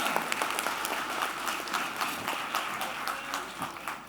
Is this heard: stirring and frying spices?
no